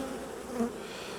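Honeybees drone steadily around an open hive during an inspection, with one bee buzzing close by for a moment above the constant hum.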